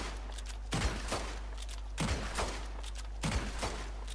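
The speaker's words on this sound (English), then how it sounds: "if you fire them both together, Arthur doesn't fire them both as quickly as he could" Dual-wielded sidearms in Red Dead Redemption 2 fire alternately right and left, in three loud bursts of rapid shots spaced about a second apart over a low steady hum.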